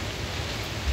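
Heavy rain lashes down with strong wind inside a harbor, a steady, dense, loud roar of water and gusts filling the whole moment without pause.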